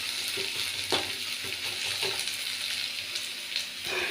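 Onions frying in a pan, a steady soft sizzle with occasional stirring scrapes and small pops, fairly quiet and close, no talking.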